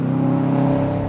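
Exhaust note of a Subaru Impreza WRX with a muffler delete and resonators retained, a steady, deep droning rumble heard close for a brief moment without any voices.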